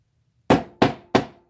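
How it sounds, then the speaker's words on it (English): Three sharp metallic hammer strikes flattening jewelry wire, evenly spaced and loud, each ringing briefly before fading, with no talking. "you can hammer it and that'll flatten out and give it a little bit of texture"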